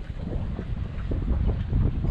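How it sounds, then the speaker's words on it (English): Steady, heavy wind buffeting the microphone at Pearl Bay Chickee in Everglades National Park, a continuous low rumble with gusts swelling toward the end; no voices. "As you can see, it is windy."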